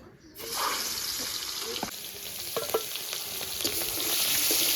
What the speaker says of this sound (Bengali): প্রথমে লবণ দিয়ে দিলাম হলুদ গুঁড়ো শুকনো লাল লঙ্কার গুঁড়ো ভালো করে মাখিয়ে নেব চিংড়ি মাছগুলো এবার ভেজে নিচ্ছি